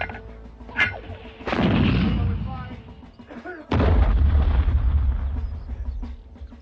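Artillery gun firing in a wartime drama, with two heavy booming blasts, each trailing a long rumbling roar, near and loud with a few voices before them.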